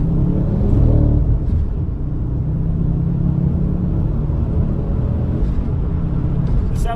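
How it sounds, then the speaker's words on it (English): A Ford Focus RS MK2 idles close by with a deep, steady engine rumble and a slight swell early on, heard without any talk. "The sound of this car is definitely the best thing"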